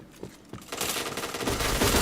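Rapid bursts of gunfire in the shooter game Point Blank, a short flurry of automatic shots building quickly to a dense, loud stream.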